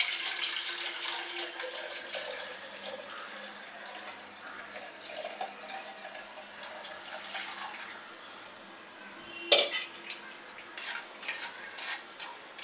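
Liquid strained through a sieve into a bowl with a steady watery patter, then a metallic clink and a few light knocks, close by.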